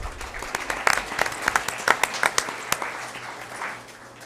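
Audience at a Weslaco ISD school board meeting applauds students leaving the floor, a steady patter of clapping with a few sharper claps standing out, moderately close, fading slightly toward the end with no talk.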